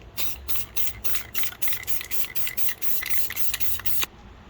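Bursts of black spray paint hiss from an aerosol can onto the backing of a glass art piece, about a dozen short, close, rhythmic sprays with no voice, ending abruptly.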